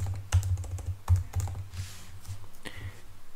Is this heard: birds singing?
no